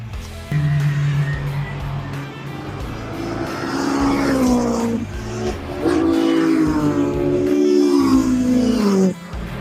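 A Thunder Saloon Championship race car sweeps past on the Thruxton circuit, its engine note rising and then falling away in a loud pass that lasts several seconds.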